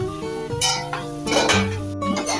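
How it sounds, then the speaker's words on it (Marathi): A spoon scrapes and stirs potatoes sautéing in a pan with faint sizzling, metallic clinks and scraping strokes at close range. "आता हे आपण परतवून घेतलंय।"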